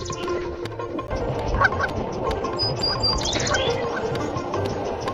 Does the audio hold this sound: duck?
yes